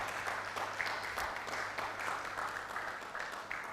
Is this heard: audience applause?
yes